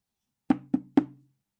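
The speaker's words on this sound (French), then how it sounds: "Encouragé par un regard de Juliette, Émile toque à la porte." Three firm, evenly spaced knocks on a wooden door, close and clear in otherwise total silence.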